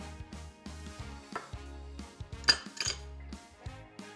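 A spatula stirs Italian hoagie dip, with lettuce mixed through, in a big bowl, giving soft scraping and clinking knocks in an irregular rhythm, close and fairly quiet, with one sharper clink midway.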